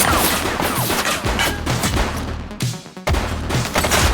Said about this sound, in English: Shots fired! Did you hear that?